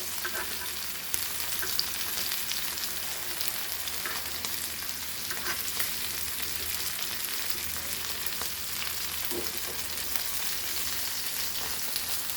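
Glassy fish (burrante) frying in hot oil for a Goan fish curry gives a steady, close crackling sizzle that runs unbroken the whole way, with no voices.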